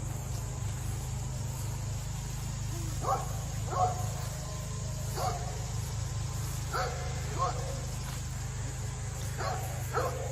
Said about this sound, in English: The dogs are always barking here